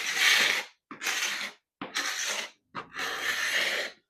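A Bahco hand scraper pulls across wooden floorboards to remove old finish in four separate rasping strokes, each about half a second to a second long with brief pauses between, close and fairly loud.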